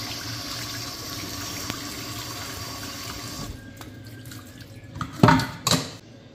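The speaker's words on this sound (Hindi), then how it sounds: "इसके ऊपर मैं डालूंगी ठंडा पानी" Cold water is poured over boiled pumpkin in a kitchen, a steady splashing stream that stops partway through, followed by a couple of sharp knocks and splashes.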